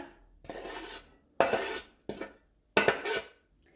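Chopped bell pepper, cucumber and onion are added to cooked couscous in a bowl: four separate close bursts of rustling and scraping as the vegetables drop in, with quiet pauses between them and no voices.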